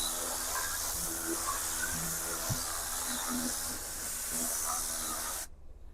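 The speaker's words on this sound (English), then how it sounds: "we can just take it and blast any dust or anything" Steady, loud compressed-air hiss from a handheld air blaster blowing dust off a car during detailing, running continuously for several seconds and then cutting off abruptly.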